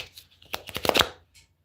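Tarot deck shuffled by hand, quick papery riffles and flicks building to a dense burst, then trailing off into a faint final tap, close and clear with no talking.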